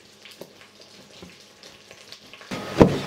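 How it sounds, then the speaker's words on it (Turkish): Lamb tail fat sizzles quietly in a pan with soft crackles while being rendered for kavurma, then a sharper, louder burst of frying near the end. "Gördüğünüz gibi kuyruk yağımız kavurmaya devam ediyor."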